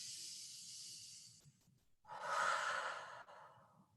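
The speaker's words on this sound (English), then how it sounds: "All right, let's breathe in." Deep breathing during a parent-and-child yoga session: a long, breathy inhale, a short pause, then a fuller, louder exhale, close and without talking.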